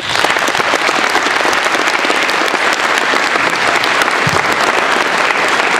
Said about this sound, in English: a big round of applause for Michael Pritchard